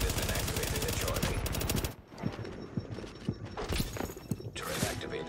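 Rapid automatic fire from a turret in the video game The Division rattles out as a dense, loud burst, then breaks into scattered sharp shots and mechanical clatter.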